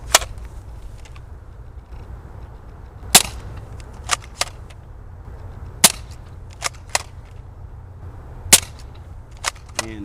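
Modded Nerf Elite Strongarm blaster with a replacement spring firing stock Elite darts: sharp snapping shots spaced a second or two apart, several bright cracks over a low steady background hum, no talking.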